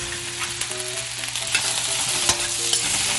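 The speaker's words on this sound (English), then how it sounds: "and just saute that all." Squash, kale and onion with olive spread sautéing in a pan for a casserole, a steady loud sizzle with scraping stirs and occasional sharp clicks, no voices.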